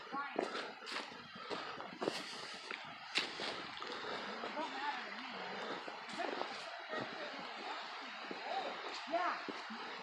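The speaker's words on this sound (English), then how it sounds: "You hear the water. Almost like there's a waterfall over here." Water flows steadily near a waterfall along a forest hiking trail, a continuous broadband rush with footsteps and shuffling crunching over it and faint voices at times.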